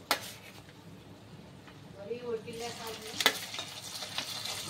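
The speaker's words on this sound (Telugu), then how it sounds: "ఇప్పుడైతే మనం నూనెలో అయితే వేపుకుందాం ఇది చికెన్" Chicken frying in hot oil for a roast fry, a close crackling sizzle with stirring clatter and a brief metallic scrape, while a person talks over it.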